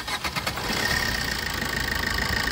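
A 2012 Maruti Swift VDI diesel engine cranks briefly with a few quick turns, catches and settles into a steady, close, rattling idle with a clattery diesel knock.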